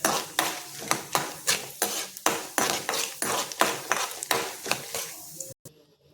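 Lentils sizzle steadily in hot oil while a spoon stirs in rhythmic scraping strokes against a pan, close and fairly loud, stopping abruptly near the end.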